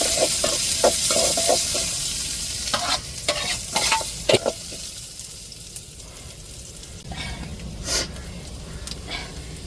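Onion and garlic fry in hot oil with mustard seeds and dried red chillies, a steady close sizzle broken by clattering stirs of a spoon against the pan for about ten seconds, with no voices.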